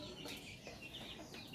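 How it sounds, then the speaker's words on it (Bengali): Hens and roosters in a backyard coop cluck softly, a few faint, scattered calls over a quiet, hissy background. "এই পাশে আছে সুন্দর সুন্দর মোরগ মুরগি"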